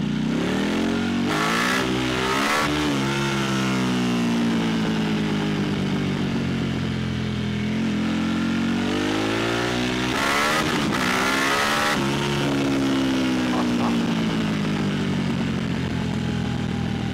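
A 2022 Harley-Davidson Pan America motorcycle engine revs hard during a wheelie, loud and close, its pitch sweeping up and down through several throttle surges with brief sharp bursts, no voices.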